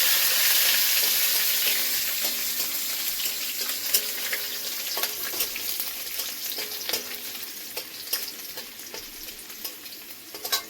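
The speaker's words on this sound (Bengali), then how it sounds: "প্রথমে একটু রসুনটা হালকা করে ভেজে নেব" Garlic, nigella seeds and a pinch of five-spice sizzle steadily in hot oil for a Bengali small-fish curry, a dense hiss with scattered sharp crackles and pops that eases slightly over time, with no voices.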